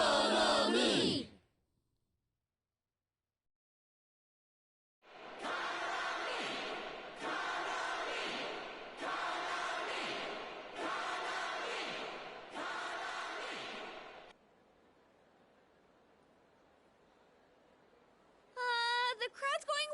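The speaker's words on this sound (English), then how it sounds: "The crowd's going wild for some reason." Crowd chanting in Persona 4 Dancing All Night, loud rhythmic bursts of massed voices repeating in steady waves, after a brief voice and a silent gap, then fading to a low murmur before a short electronic flourish.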